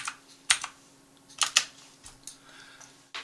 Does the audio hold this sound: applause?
no